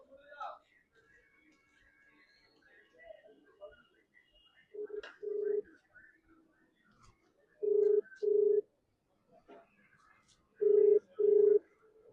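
A mobile phone call rings out with two double-pulse ringback tones a few seconds apart, clear and steady, after a faint stretch of quiet room noise and soft beeps.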